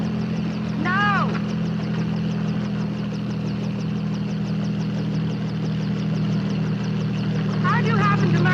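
A helicopter flying in a 1957 sci-fi horror film, its engine a steady low drone that holds throughout, with brief voices near the start and end.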